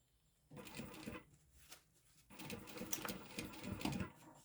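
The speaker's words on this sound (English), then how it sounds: "Let's top stitch this." A sewing machine top stitches fabric for a sling, running in two bursts of close, steady mechanical whirring separated by a short pause.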